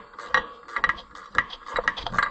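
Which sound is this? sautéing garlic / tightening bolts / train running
tightening bolts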